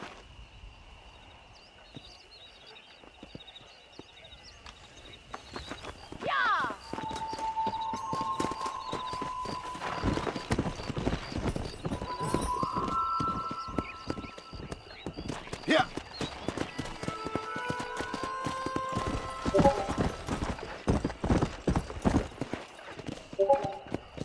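Horses gallop in the Red Dead Redemption video game, a steady rapid clip-clop of hooves that grows louder and denser, with a whinny and bits of game music over the pounding rhythm.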